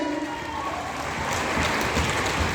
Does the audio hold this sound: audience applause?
yes